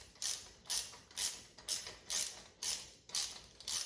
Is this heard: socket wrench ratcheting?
yes